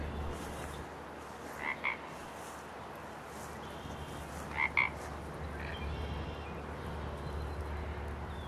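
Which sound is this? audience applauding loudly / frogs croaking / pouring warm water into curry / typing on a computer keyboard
frogs croaking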